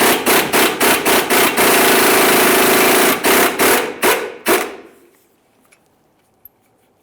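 An impact wrench on a 24mm socket rattles off a lower ball joint mounting nut in loud close bursts: several quick hammering pulses, a long sustained run, then a few more short hits before stopping into near silence.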